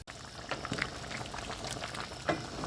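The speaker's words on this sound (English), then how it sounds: "we're going to cover this and let it simmer down" Curry chicken simmering in a covered pot, a steady low bubbling and sizzling with occasional soft pops and lid-muffled gurgles, close and continuous, no talking.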